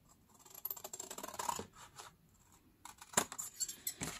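Scissors snip through newspaper and cardstock for a tea box card, close and quiet, in a few scratchy cutting strokes with a pause in the middle and a sharper snip after.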